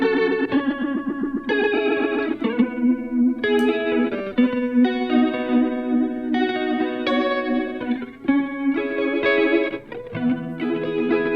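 An electric guitar played through an OBNE Visitor pedal set to tremolo into phaser rings out in chords and notes with a pulsing, swirling modulated tone, no talking.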